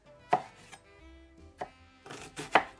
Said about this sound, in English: I'm slicing up grape tomatoes to make about 1/2 cup.